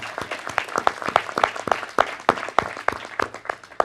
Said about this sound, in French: donc applaudissons-la